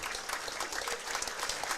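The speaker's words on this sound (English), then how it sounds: "You hear the applause from the crowd." Crowd applause at a girls' high school basketball game, a steady patter of many hands clapping together that continues without pause, heard moderately from the stands.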